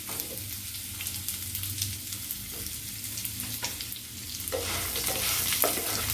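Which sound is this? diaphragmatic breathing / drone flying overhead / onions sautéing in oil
onions sautéing in oil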